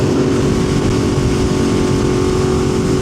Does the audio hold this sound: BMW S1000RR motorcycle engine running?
yes